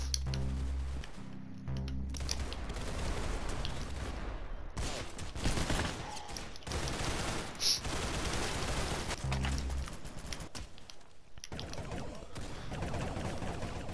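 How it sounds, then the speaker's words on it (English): A shotgun fires in an online shooter match. Sharp, loud blasts come in scattered bursts amid rapid gunfire and metallic clinks, with uneven gaps between the shots. "I hate that shotgun."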